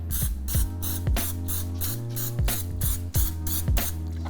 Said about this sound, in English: I have this fat-free, pretty much 0-calorie spray-on oil that I'm gonna use